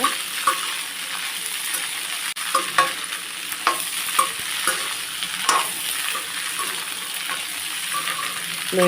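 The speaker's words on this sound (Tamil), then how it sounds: "அப்படியே சிம்மில் வச்சு வதக்க விடணும்" Onions and small green chillies sautéing in oil for a spicy onion-garlic thokku, with a steady sizzle under repeated clinks and scrapes of a spoon stirring in the pan, close and fairly loud.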